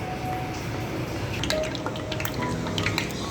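Cooking oil poured into a pan gives a soft, faint trickle with a few light drips over about three seconds, heard alone without any voices.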